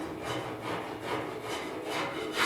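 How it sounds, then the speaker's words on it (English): A file rasps across the side of a 1972 Ford 4x4 short box pickup's bed, repeated back-and-forth strokes in a steady rhythm, close and alone. "So I'll file this up"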